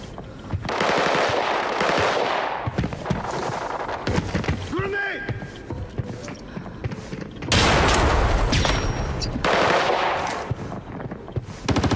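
Gunfire in the Arena Breakout video game: dense, loud automatic rifle bursts in several long volleys, with a brief whistling tone midway and players talking between shots.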